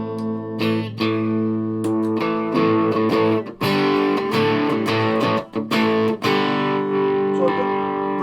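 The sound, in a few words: electric guitar with overdrive, no reverb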